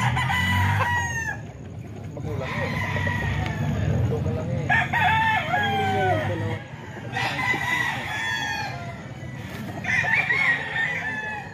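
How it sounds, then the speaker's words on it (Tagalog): Several banded chickens crow over and over, each call rising and then trailing off, with steady clucking and flock chatter filling the gaps. "Ang daming manok ni Boss J, mga kaidol."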